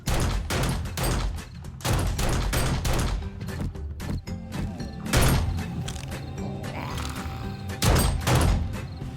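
Pistol fire in the zombie survival game 7 Days to Die: about eight sharp, loud shots ring out at uneven intervals, each with a short reverberant tail over a low background rumble.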